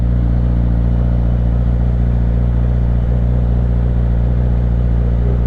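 A Yamaha R6 street fighter motorcycle engine roars loud and close, held at high revs under hard acceleration with a dense, steady buzz and no voices.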